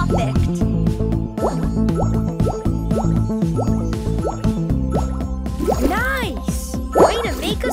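Water in the PAW Patrol Air & Sea mobile game gives quick dripping, plopping splashes in a steady run, then bubbly, rising liquid sounds near the end, all over bright game music.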